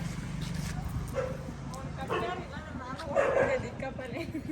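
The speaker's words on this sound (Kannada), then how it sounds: "ಇವಾಗ ನಾಯಿ ಬಂತು" A dog on an outdoor nature walk gives a few short, yipping barks at moderate distance, spaced a couple of seconds apart, over steady outdoor background noise with voices nearby.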